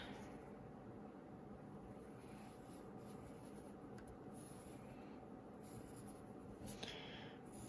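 A soft pencil scratches a stripe across sketching paper in steady, faint, close strokes with a few brief louder scrapes, set against a low background hum.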